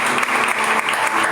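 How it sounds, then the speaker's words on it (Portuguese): A church congregation gives a short burst of applause during a sermon, dense, loud and steady clapping that fills the brief moment without any talking. "E se você quer, dê uma salva de palmas."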